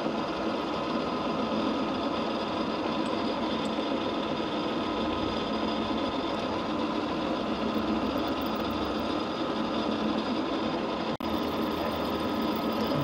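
Milling machine cutter down feeding into a gearbox part, a continuous close mechanical hum and grinding drone with steady cutting chatter and one sharp click near the end.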